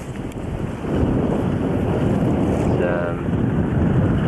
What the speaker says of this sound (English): You can hear there's a lot of wind.